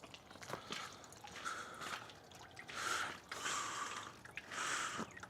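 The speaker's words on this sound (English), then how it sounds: "I'm just gonna take a whole whack of them, flush them down, see what happens" Wet wipes flushed down a household toilet: a series of gurgling, sucking water surges with short splashy bursts, growing fuller toward the end, heard alone at close range.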